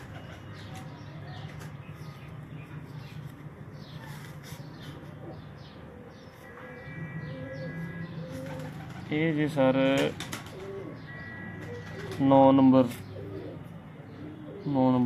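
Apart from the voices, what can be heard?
pigeons cooing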